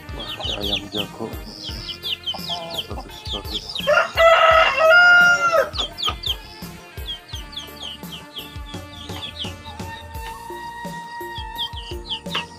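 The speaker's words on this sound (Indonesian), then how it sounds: "Wah, ada ayam jago." A rooster crows loudly nearby in one long, rising call amid a rural village yard with clucking hens, chirping birds and scattered clatter, and someone briefly speaks.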